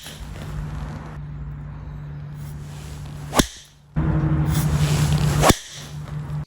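A Ping G430 golf driver strikes the ball twice, each hit a loud, sharp crack about two seconds apart, over a steady outdoor hum.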